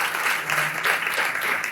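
A church congregation at a Sunday service applauds steadily, a dense wash of many hands clapping at even loudness for the whole stretch, with no voices on top.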